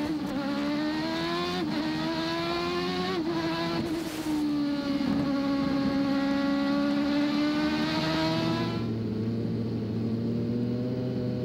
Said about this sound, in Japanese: さあやっとエンジンがかかりましたが、最後尾からのスタートとなってしまいました。